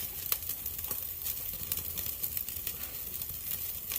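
Strip steaks sizzling on an indoor grill, a steady bright crackle and hiss with small pops, fairly quiet and continuous with no voices.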